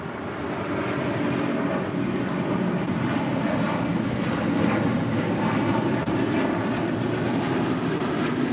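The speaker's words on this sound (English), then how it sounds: "That was British Airways 282 departing to London Heathrow on the A350 1000" A British Airways Airbus A350-1000 departing LAX for London Heathrow fills the air with a loud, continuous engine roar and broadband rumble, holding steady throughout with no talk over it.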